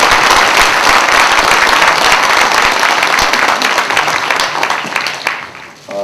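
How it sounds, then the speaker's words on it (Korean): An audience at a science and technology policy seminar breaks into loud, close applause, a thick wash of many hands clapping that holds steady and then tapers off near the end. "우리 박근혜 대표님께 큰 박수 다시 한번 부탁드리겠습니다."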